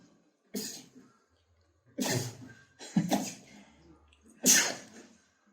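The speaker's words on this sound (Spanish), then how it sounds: "antes me pegó un estornudo" A person sneezes and coughs repeatedly, four sharp, close bursts spaced about a second apart with quiet breaths between, fairly faint overall.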